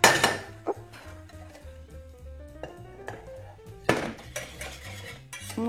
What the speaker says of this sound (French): Et on remet le tout dans la casserole.